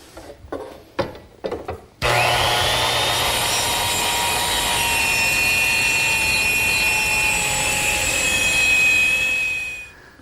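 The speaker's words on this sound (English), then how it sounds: "that's just a simple matter of trimming them with the circular saw" Circular saw trimming the corners off a wooden piece, a loud sustained whine starting abruptly after a few brief knocks and running steadily for about eight seconds before winding down, with a high pitched tone gliding across the cut.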